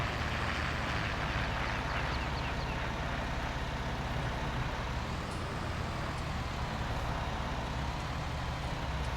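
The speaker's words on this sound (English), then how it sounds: "Try and get this tractor closer to straight behind us there." Tractor engine droning steadily in Farming Simulator 19, a continuous low mechanical rumble with road-like noise throughout and no talk over it.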